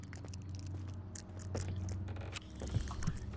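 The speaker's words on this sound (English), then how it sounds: "you can hear the crunching of Daniel grinding his teeth" Teeth grinding by a character in the horror game Amnesia: The Dark Descent, a low crunching scrape repeating under a continuous dark ambient drone, fairly quiet.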